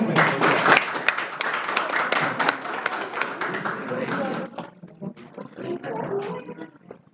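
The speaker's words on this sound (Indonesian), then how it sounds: "Inggih tunas tepuk tangan." Audience applause at a school Balinese-language month closing ceremony, a dense wash of clapping that thins out after about four seconds, with a voice over the top.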